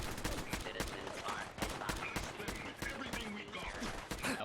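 Rapid gunfire crackles during a fight against raiders in Fallout 4, with dense bursts of shots over game ambience and a voice talking faintly underneath.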